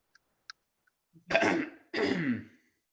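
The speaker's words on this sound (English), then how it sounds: "Oh, don't cough" A couple of faint clicks, then two short, close coughs or throat-clearings in quick succession, each with a raspy, breathy burst.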